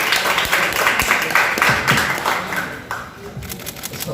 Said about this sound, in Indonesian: boleh tepuk tangannya untuk Bapak Manoj Punjabi.